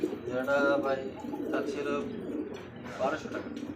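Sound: pigeons cooing, a male and female pair for sale

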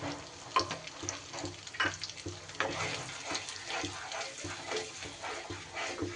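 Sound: tap water washing a mixer grinder bowl

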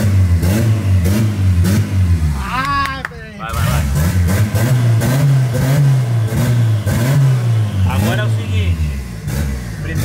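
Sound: car engine revving

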